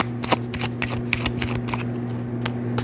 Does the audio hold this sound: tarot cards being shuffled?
yes